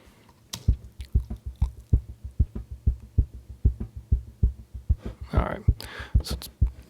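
A cajon played dry through one microphone, with no processing: steady, evenly spaced low thumps about three per second. Brighter, sharper slaps join near the end. The hits are close and moderately loud, with no talking.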